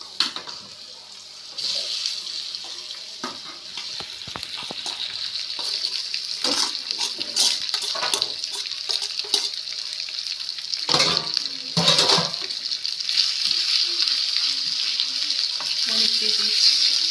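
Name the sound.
potatoes frying in oil in a pan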